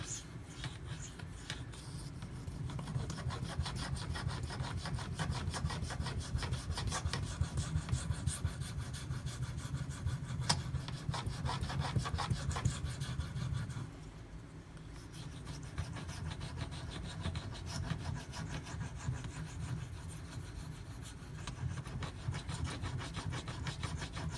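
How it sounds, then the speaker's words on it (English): A Spyderco Dragonfly blade being worked on a 5K whetstone, giving a steady, close scraping rasp of back-and-forth strokes that runs continuously, with a brief softer patch partway through and no speech. "it's taken a little work on this 5K to get some of these scratches out"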